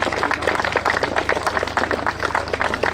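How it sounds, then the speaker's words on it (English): Applause for race winners at a Glan Y Gors motorsport event: a small crowd claps steadily and briskly, close and lively, for a few seconds. "Big round of applause"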